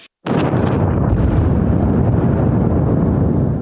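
An explosion on the Crimean road-and-rail bridge erupts after a brief quiet moment into a loud, sustained roaring blast, a dense rumble that stays at full strength for several seconds.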